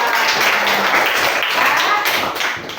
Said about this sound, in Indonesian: tepuk tangan dulu dong biar sudah selesai